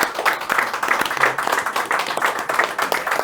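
Pub audience at Reapy's Pub in Tuam, County Galway claps in a close, lively burst, uneven hand claps filling the room for a few seconds before stopping.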